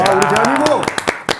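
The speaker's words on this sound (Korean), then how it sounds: "박수 쳐야 됩니다" A studio audience on a Korean lecture show claps in scattered, uneven bursts as voices carry on loudly over the start.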